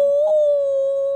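A dog lets out one loud, steady howl that holds a single sustained pitch for just over a second, close and alone.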